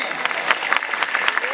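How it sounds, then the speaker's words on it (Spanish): Audience clapping at an olive oil festival opening speech in Linares, Spain, a short burst of steady applause from a crowd, moderately loud with broadband patter throughout. "Oye, un aplauso, hombre."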